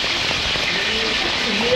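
Heavy rain pours down steadily over an outdoor catering cooking setup in Bamban, Tarlac, a dense, even hiss of drops drumming on surfaces throughout, with faint voices beneath.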